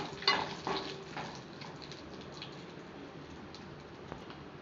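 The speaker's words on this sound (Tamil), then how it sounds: "நம்ம ஸ்பைசஸ், ஹோல் ஸ்பைசஸ் எடுத்து வச்சுருக்கோம், அது ஆட் பண்ணிக்கலாம். நல்லா ஃப்ரை ஆகட்டும்." Whole spices frying in hot oil for a Dhaba-style egg gravy give a steady, soft sizzle close by, with a few light clinks early on and no talking.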